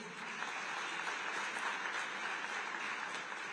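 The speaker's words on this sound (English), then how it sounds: "Let's clap hands for him." Audience applause at a youth business forum, steady dense clapping sustained throughout without a break, moderately loud and filling the room, with no speech over it.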